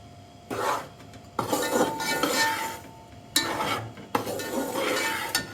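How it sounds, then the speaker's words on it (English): A dry fruit laddu mixture with rock sugar being stirred in a pan, with several scraping, clinking bursts of spoon against metal separated by brief pauses, close and without talk. "Mix it well."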